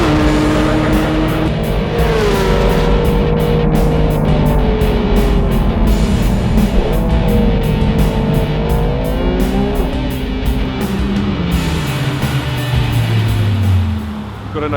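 Porsche 911 GT3 race car with a 3.6-litre, 360 horsepower engine driving hard on the Paul Ricard circuit, its loud engine revving up and down continuously through gear changes, with faint talk underneath.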